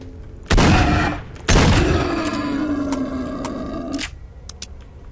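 Two loud, close shotgun blasts firing slugs in the video game S.T.A.L.K.E.R. Shadow of Chernobyl, the second followed by a long ringing tail over steady game ambience and a few small clicks.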